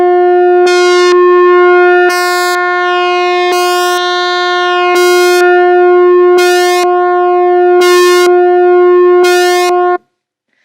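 A SynthMaster synth preset plays a steady, bright sustained tone while a gated sequence chops its high, buzzy layer into seven regular bursts, ending abruptly after about ten seconds.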